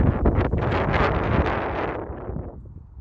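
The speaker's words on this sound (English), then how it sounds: "It's very windy outside." Strong wind buffets the microphone in a continuous roar, gusting loudly before easing slightly toward the end.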